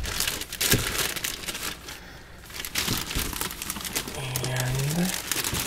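A sharp unboxing knife slices through plastic packaging with loud, close crinkling and tearing crackles in irregular bursts, and a voice speaks partway through.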